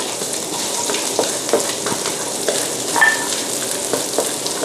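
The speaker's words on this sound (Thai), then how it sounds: "เราจะมาผัดตัวไส้ก่อนนะคะใส่น้ำมันลงไปสัก 2-3 ช้อนโต๊ะนะคะ" Coriander root, garlic and pepper are stir-fried in a few spoonfuls of oil as the filling for a Thai chor muang snack. A close, continuous sizzle runs throughout, broken by light scraping stirs, with no talk.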